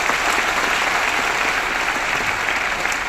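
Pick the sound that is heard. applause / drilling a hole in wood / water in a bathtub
applause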